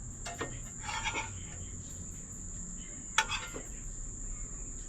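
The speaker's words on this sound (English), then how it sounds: "Bugs, people, bugs." Crickets and other insects shrill outdoors in Jamaica in a steady high drone, joined by a few nearby clicks and faint background sounds.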